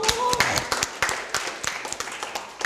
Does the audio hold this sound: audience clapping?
yes